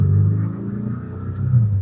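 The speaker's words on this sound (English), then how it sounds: "And then you still appreciate the engine noise" A Porsche 718 Boxster engine runs close by with a low, steady rumbling drone that swells slightly toward the end, heard alone without talk.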